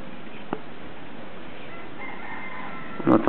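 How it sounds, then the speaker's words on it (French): A rooster crows in the distance, thin and faint over steady outdoor background noise across a quiet street, followed by a brief closer rustle at the end. "On entend le coq."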